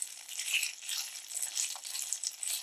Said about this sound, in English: After it browns on both sides for 3 minutes, we will move on to the next step.